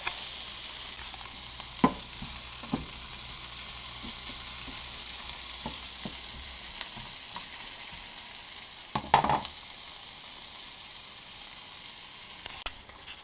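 Eggs cooking in a pan for a breakfast meal give a soft, faint, steady sizzle, with a few light clicks of a utensil and a louder clatter near the middle, and no voices.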